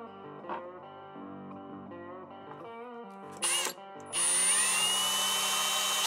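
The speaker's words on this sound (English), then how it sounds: "You're gonna wanna center drill it with an 1/8-inch drill bit." A power drill with a 1/8-inch bit hums and whines, spinning up with a sharp rise, then center drilling into metal with a loud, steady grinding screech.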